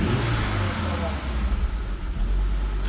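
A Volvo V70R engine idles roughly with the throttle body just reconnected, its deep low rumble dipping and surging as it nearly stalls before catching itself, loud and close with a voice briefly audible.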